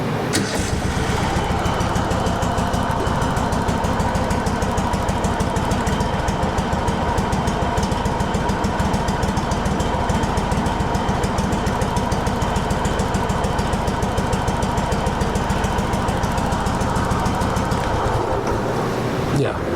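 A Kohler Command engine on a Craftsman GT5000 lawn tractor runs at a steady idle, a continuous close, loud drone with a faint knocking undertone and no breaks.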